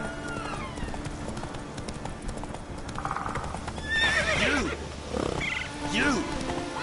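Roach the horse in the Witcher video game, hooves clip-clopping at a steady gallop with repeated neighs and whinnies over ambient game sounds, while a voice speaks.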